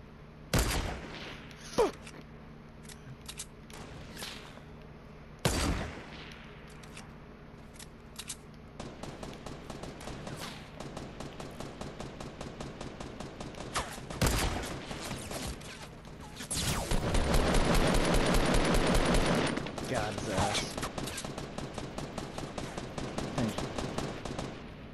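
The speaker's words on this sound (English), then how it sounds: "someone else is shooting at him" Shooter video game gunfire: scattered single shots early on, then steady rapid automatic bursts building into a dense, loud fusillade near the end, with no talking.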